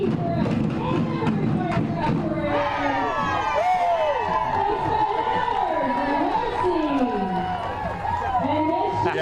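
A crowd at a winter carnival parade cheers for passing samba dancers, with sustained shouting and whistles and people talking nearby.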